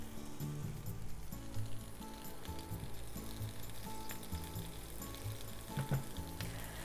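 An egg fries in a pan for a Japanese breakfast with a steady, soft sizzle throughout, and a few light scrapes and clinks of utensils are scattered over it. The frying is quiet and close, and no one speaks.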